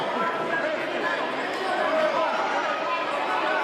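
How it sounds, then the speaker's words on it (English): An indoor crowd at an amateur boxing invitational chatters and cheers in a steady, dense murmur of many voices, moderately loud and unbroken across the whole stretch, with speech mixed into the noise. "Crowd's really into this one, champ."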